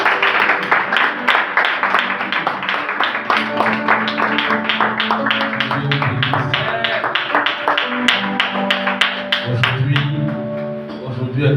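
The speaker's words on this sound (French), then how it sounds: "Est-ce que tu peux applaudir pour le Seigneur?" A church congregation claps along through a worship song, steady rhythmic applause layered over music and singing, loud and close throughout.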